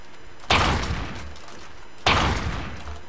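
Two heavy, booming gunshots from a 3D gun mod in Minecraft 1.7.10, about one and a half seconds apart, each a sharp close blast with a short rumbling decay and no talking.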